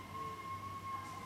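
Faint siren with a steady sustained wail, heard alone and low in level throughout.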